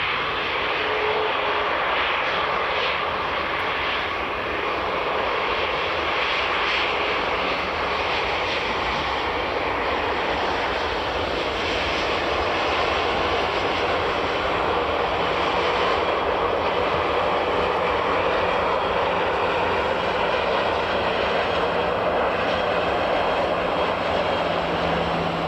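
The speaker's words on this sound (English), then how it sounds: "Next to land is going to be the American Airlines A321neo." An American Airlines A321neo jet landing at Edinburgh Airport gives a steady, broad engine roar that stays fairly even throughout, distant and continuous with no voices.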